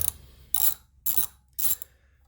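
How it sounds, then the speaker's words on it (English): A socket ratchet undoing the axle bolt on a Triumph motorcycle gives three close, crisp bursts of rapid clicking, evenly spaced with short pauses between them. "I'll just unscrew it right out"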